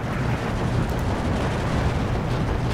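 In Steel Division 2, mortar fire produces a loud, continuous roar of booming, rumbling blasts that blend into a dense wall of explosive noise.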